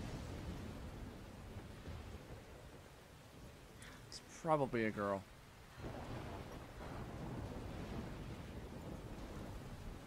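Steady rain falling in a stormy night scene of the video game Life is Strange, a constant hiss throughout, with a brief spoken line from a man near the middle.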